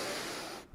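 A single deep, noisy breath drawn in close to the microphone, ending abruptly with a faint exhale.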